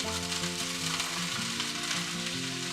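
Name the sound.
apples frying briefly in hot oil in a pan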